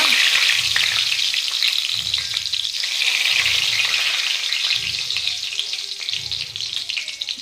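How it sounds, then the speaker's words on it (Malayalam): Fenugreek and mustard seeds fry in hot coconut oil for mango pickle, making a close, continuous crackling sizzle with a steady texture and faint stirring, and no voices. "കുറച്ച് ആവശ്യത്തിന് ഉലുവ, കടുക്, വെളിച്ചെണ്ണ ഒഴിച്ച് ഉലുവ കടുക് പൊട്ടിക്കുക."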